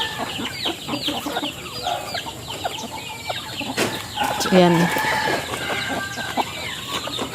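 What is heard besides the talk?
chickens clucking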